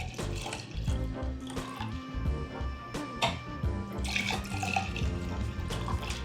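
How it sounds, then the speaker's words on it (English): A French 75 cocktail is poured into two glasses, with a close, gentle trickle and splash of liquid and small clinks over a quiet room. "And then I'm gonna pour it in my glasses."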